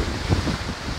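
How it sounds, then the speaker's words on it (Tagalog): Big waves and wind at sea beside a small boat, a continuous roar of surf and gusting wind over about a second. "Ayan, malaki ang alon, no."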